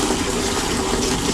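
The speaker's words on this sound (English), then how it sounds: "Oh, that's some water pressure." Water sprays hard under pressure from plumbing inside a school bus converted into a tiny home, a loud, steady gushing hiss close by that runs without a break.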